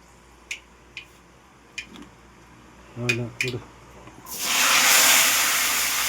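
Mustard seeds hit hot oil in a home kitchen pan and break into a loud, dense hissing splutter that swells and holds steady, after a few sharp ticks and faint clinks.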